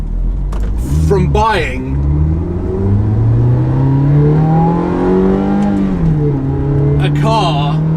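An older V8 Ferrari or Lamborghini supercar engine revs on a short test drive, the pitch rising smoothly through a long pull before dropping back, with a couple of sharp blips, loud and close, with someone talking briefly over it.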